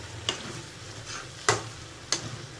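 Chicken fry sizzles softly in a pan while being stirred, with three sharp scraping clacks of the spoon spaced through a faint frying hiss.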